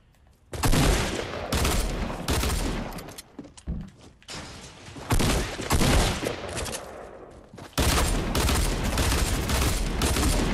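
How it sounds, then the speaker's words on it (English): Rapid, loud pistol gunshots from dual-wielded handguns in the video game Fortnite, firing in dense bursts with brief pauses, close and forceful throughout. "How many times I gotta shoot you in the fucking neck?"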